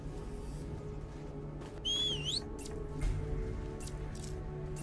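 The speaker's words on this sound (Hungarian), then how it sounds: "Na, ahhoz, hogy őt elcsaljuk, onnan kéne fütyülni." A short rising and falling whistle, used to lure a character in the video game Stargate: Timekeepers, heard once over quiet background ambience.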